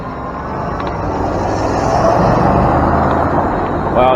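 An SUV passes along a city street, its broadband road and engine rumble swelling steadily to a peak and holding loud, heard up close from an e-bike rider's position amid steady traffic noise.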